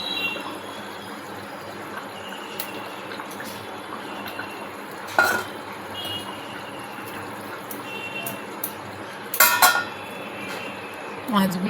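Fried fish pieces being slipped into a pot of boiling potato curry, with soft splashes and clinks of utensils against the pot over a steady bubbling simmer, a louder burst of plopping near the end.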